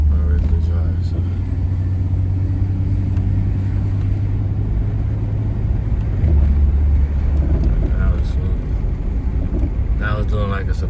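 A 1987–99 Ford Thunderbird driving after a transmission service, a low steady engine and road rumble with wind noise, and someone talking over it at times.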